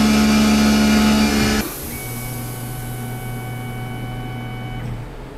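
A Tormach CNC mill cuts a part with a steady mechanical whine and drone that drops abruptly to a lower, quieter hum after a second and a half, then holds steady.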